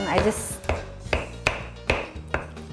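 Ripe avocado mashed with lime juice and other guacamole ingredients using a wooden spoon in a bowl, giving about six evenly spaced, close, soft-thudding strikes with wet squelches, no talking.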